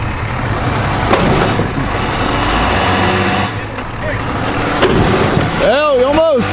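A Ram pickup truck's engine revs and strains while being pulled with a 6 or 8 inch tow strap during desert offroading, a loud rumbling drone with voices talking over it.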